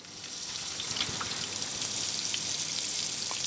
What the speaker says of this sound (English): Now what I'm going to do is just carefully ladle the hot fat over the skin.